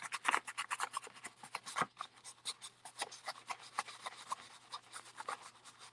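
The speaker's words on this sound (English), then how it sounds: "I'm just sanding off this extra bit of" Rapid back-and-forth rasping scrapes from sanding excess resin repeat steadily and close, a dry gritty rubbing with a faint steady hum underneath.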